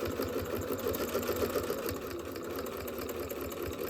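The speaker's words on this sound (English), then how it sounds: "So I'm going to start right here, do a little back stitch, and just follow that same line down." A sewing machine back stitching a satin bow tie runs with a continuous close, steady motor hum and rapid needle rattle, no voices.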